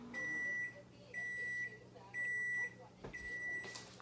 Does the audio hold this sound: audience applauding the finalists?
no